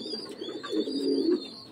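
Pigeons coo close by in soft, low, rolling murmurs that continue through the short moment, with a faint steady tone behind them.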